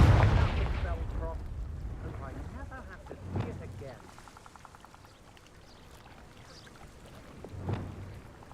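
A Confringo blast spell from Hogwarts Legacy on PS5 erupts as a loud, rumbling low boom at the start, decaying over several seconds, followed by smaller thuds and impacts with distant speech-like game voices.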